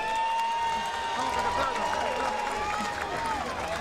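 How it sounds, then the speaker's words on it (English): An arena crowd at a fight gives boxer Fernando Angulo a sustained, roaring ovation of cheering and clapping, with whistles and shouts rising above a steady crowd noise. "Man, Angulo getting the ovation. He's won the crowd here."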